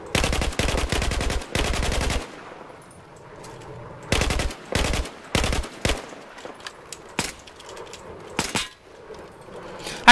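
Automatic weapon fire from Battlefield 4 in loud close bursts, first a long rapid stream, then several short separate volleys with brief pauses between them.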